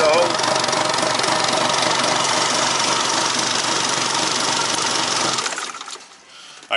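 A Volvo Penta MD22L marine diesel runs loud and steady with a dense, busy clatter, then cuts off near the end and fades toward quiet.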